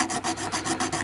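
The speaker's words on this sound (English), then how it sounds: "Here's a really tiny file, but that will actually do the job." A tiny file rasps back and forth on the ramp of a key in quick, even strokes, close up and scratchy, about six passes in a second.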